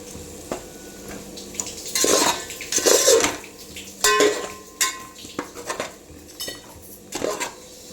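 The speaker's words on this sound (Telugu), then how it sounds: "వేసుకొని మంచిగా మసాలాలన్నీ పట్టేలాగా మంచిగా కలపాలి." A spoon stirs potatoes and spices in a metal pan for aloo dum biryani, giving irregular close scrapes and clanks against the pan over a faint sizzle.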